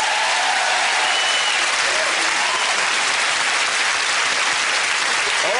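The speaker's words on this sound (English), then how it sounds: "a big round of applause to Vincent" Studio audience applause on a family game show, a loud, dense, unbroken wash of clapping that holds steady throughout.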